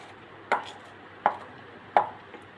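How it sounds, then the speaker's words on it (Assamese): Onion, chillies, potato and salt are pounded with an iron pestle for chutney, giving three sharp, evenly spaced thuds and a softer fourth tap, each ringing briefly in a quiet room. "আমি ইয়াত লোহা এটা খুন্দনা দি পেলাই গুড়া কৰি আছোঁ"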